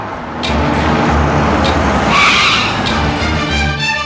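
A car pulls in close and skids, its engine loud and its tires squealing in a sustained screech that rises and then fades.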